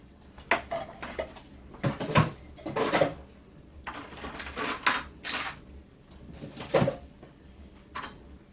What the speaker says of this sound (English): Okay, I'm gonna keep stirring.